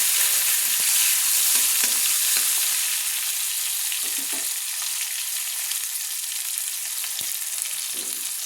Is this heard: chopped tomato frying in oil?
yes